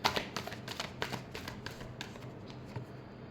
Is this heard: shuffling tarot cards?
yes